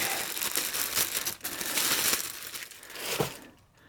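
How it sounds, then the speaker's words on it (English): Plastic packaging is pulled off an ultrasonic jewellery cleaner with dense, close crinkling and crumpling, swelling and fading in bursts before trailing off at the end. "Okay, get rid of that bit of plastic. And more plastic."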